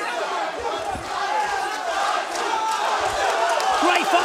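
A crowd at an Enfusion kickboxing fight roars and cheers steadily and loudly through the whole stretch, a dense, sustained wall of voices with chants rising out of it.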